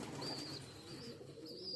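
Pigeons, a pair of red-china birds kept by a fancier, coo softly and intermittently in the distance over a faint, steady background murmur.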